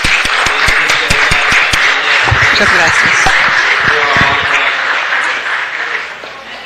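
Applause fills a city council chamber in Los Angeles, a loud, steady wash of many hands clapping that tapers off toward the end while a voice speaks briefly over it.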